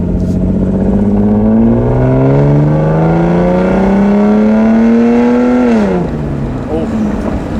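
Freshly started Lexus IS300 engine revving loudly, its pitch climbing steadily over several seconds before dropping off as the throttle is released, close and alone.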